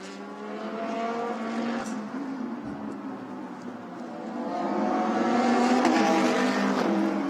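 Lamborghini GT3 race cars battle at Yeongam in a GT3 World Challenge Asia race. Their engines howl and rise through the gears, fading slightly before a second car's note swells louder and nearer.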